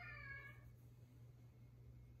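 A cat meows once, short and fairly close, against a steady low hum, then fades into quiet background noise.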